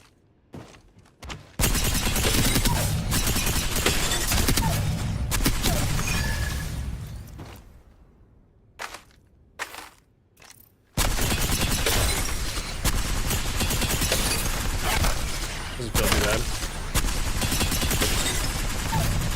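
Rapid bursts of automatic weapon fire in the battle royale shooter Apex Legends, loud and close, with clustered shots and brief pauses before another sustained volley resumes.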